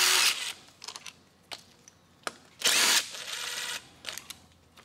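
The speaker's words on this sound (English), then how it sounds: "Then we can remove this other guide with the two 8 millimeter bolts" Two 8 mm bolts being loosened from a timing chain guide on a Ford 5.4L 3V engine, brief bursts of a power tool whirring with clicks and metallic handling between them.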